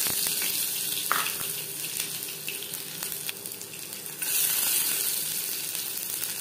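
Minced garlic, whole cumin and dried red chilies fry gently in oil over a low gas flame for dal fry, making a soft, even hiss with a few light clicks.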